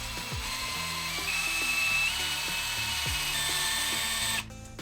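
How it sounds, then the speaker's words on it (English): A power drill bores slowly under heavy pressure into hard heat-treated screws, giving a steady, close whine with faint mechanical ticking that runs for about four seconds before cutting off abruptly. "these screws are heat treated and they are hard to drill"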